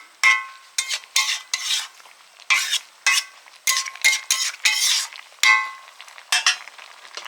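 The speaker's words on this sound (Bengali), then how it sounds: "মাছগুলো দিয়ে একটু ভালো করে নেড়ে দিচ্ছি" Small fish being stirred and fried in a pan, a series of sharp, close scraping stirs with sizzle, spaced irregularly across the stretch and no talk.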